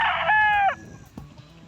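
A Sweater gamefowl rooster crows once on a game farm, a loud, close, harmonic call that ends abruptly, followed by faint background noise.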